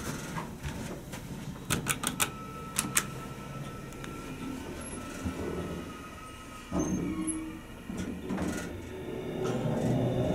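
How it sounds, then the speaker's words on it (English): Pink Dover hydraulic elevator at 603 Washington Road in Mount Lebanon, its motor giving a quiet steady hum, with a run of sharp clicks early on and a few low thumps later. "Okay, we got a good motor."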